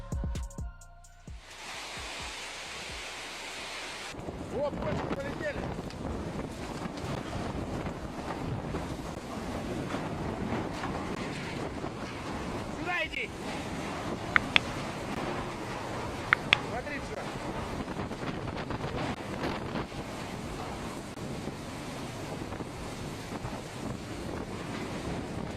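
Strong storm wind buffets a rural Russian village, a steady roaring, gusting wash of noise that fills the whole clip with a few sharp knocks midway.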